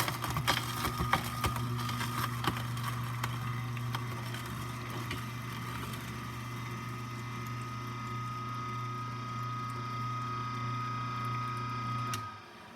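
A juicer grinding carrots while pulp shoots out, producing a loud, steady mechanical whir with gritty crunching. The whir runs continuously and then cuts off abruptly near the end.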